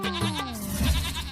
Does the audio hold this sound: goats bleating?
yes